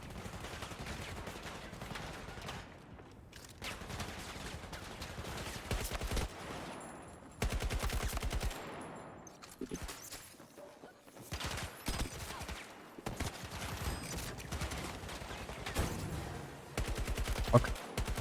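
Gunfire in Battlefield 2042 rattles in repeated bursts of automatic fire, loud and close, broken by brief lulls, with distant explosions and game effects in between.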